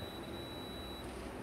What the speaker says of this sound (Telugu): చూడండి, బజర్ సౌండ్ వస్తుంది.